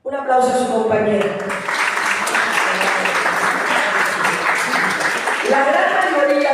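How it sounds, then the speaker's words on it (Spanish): A classroom audience at a discussion event applauds a classmate, steady dense clapping that starts abruptly after a brief voice and carries for several seconds, with speech resuming near the end. "Un aplauso a su compañera."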